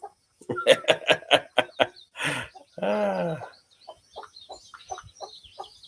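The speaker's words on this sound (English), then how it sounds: "What's up, Chicken Clucker?" A barnyard hen clucks in a quick burst of sharp, rhythmic calls, gives a longer drawn-out squawk, then settles into softer, spaced clucks, close by and without talk.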